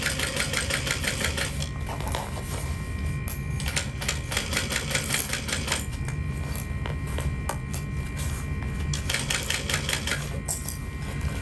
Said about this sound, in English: you want to make sure that you're sewing the layers together past your basting stitches